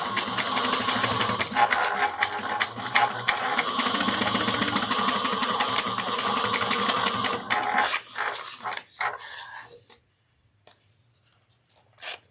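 A sewing machine runs fast and continuously for about eight seconds, close-up, as it back-stitches a handbag seam, then stops. A few scattered handling clicks and rustles follow before quiet.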